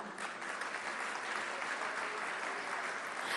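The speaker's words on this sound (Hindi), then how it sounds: "तालियां उल्टे हाथ की तरफ कैसे बज रही हैं" Steady audience applause fills the room at a government women and child development department awards event, dense and continuous throughout, with no talk over it.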